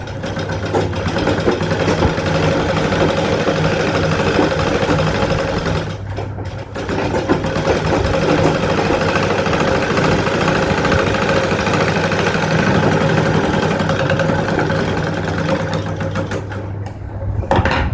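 A sewing machine runs steadily while stitching a churidar seam, a loud, continuous close-up whir with a mechanical drone, pausing briefly twice before starting again.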